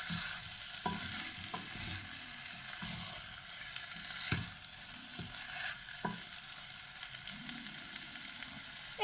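Turkey meat sears in a pan for a spring goulash, a dense continuous sizzle broken by occasional sharp scrapes and knocks of stirring, close and alone without talk.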